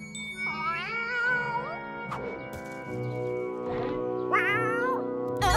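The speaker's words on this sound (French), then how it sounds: "C'est juste un petit chat." A small cartoon cat from Polly Pocket meows several times, with high, wavering cries over a soft musical background and a light chime.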